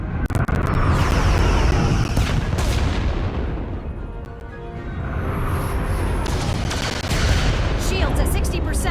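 Starship phaser fire during a space battle in Star Trek Resurgence: loud bursts and booming weapon blasts that swell, dip midway, then build again.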